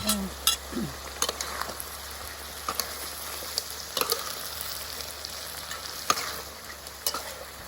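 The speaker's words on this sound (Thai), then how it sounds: "จากนั้นก็ใส่เอามาผัดเนาะ ตามด้วยพริกอ่อนนะยาย" Torn pickled crab tossed with young chilies in a hot pan, a continuous close sizzle broken by sharp scrapes and taps of a spatula stirring, no voices.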